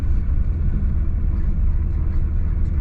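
A Jaguar car pulls away in second gear, its engine giving a loud, continuous low rumble throughout with no clear change in pitch.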